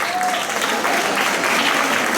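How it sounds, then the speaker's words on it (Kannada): Audience applause at a Yugadi celebration program, a dense steady burst of many hands clapping together that holds loud and even for about two seconds without a break. "ನಮ್ಮ ನಿರೂಪಕಿ ಶ್ರೀಮತಿ ಸುಷ್ಮಾ ಅವರಿಗೆ ಒಂದು ದೊಡ್ಡ ಚಪ್ಪಾಳೆ."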